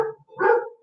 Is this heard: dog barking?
yes